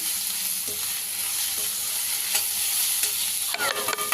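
Salted onions frying in a pan for a Telangana-style egg curry give off a constant close sizzle, broken by a few soft scrapes of stirring and a busier clatter of the spoon near the end.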